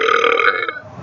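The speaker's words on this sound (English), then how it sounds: "At least you're getting a burping video" One loud, close burp, a single throaty belch lasting under a second that fades at the end.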